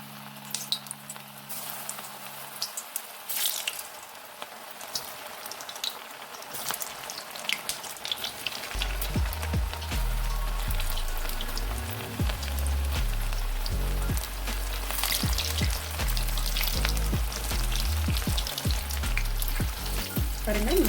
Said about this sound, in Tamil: அந்த ஆயிலில் இது ஒன்று ஒன்றா நம்ம போட்டு எடுத்துக்கலாம்.